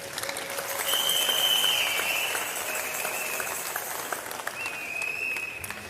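A church congregation clapping as a clap offering, a steady round of applause from many hands at moderate distance, with faint high tones sounding over it.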